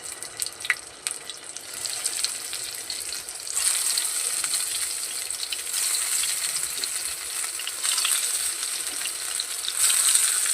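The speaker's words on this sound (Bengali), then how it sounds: "এবার আমি ভেজে নেবো তেলে" Chickpea, taro and lentil fritters sizzle in hot oil, a steady frying hiss that swells louder partway through as more batter goes in, with faint kitchen clatter.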